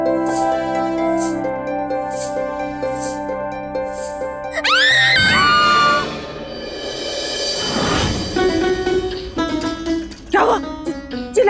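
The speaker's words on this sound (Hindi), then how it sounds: "चिल्ला क्यों रही है?" A woman's loud, high-pitched scream rises out of music at night in a kitchen, a sustained shriek with a wavering pitch that then gives way to a tense orchestral score and sound effects.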